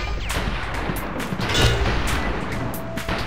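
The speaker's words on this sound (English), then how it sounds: "Machine gun." Machine gun fire in the ThrillVille: Off the Rails shooting game, rapid loud shots crackling over a busy backdrop of impacts and game effects.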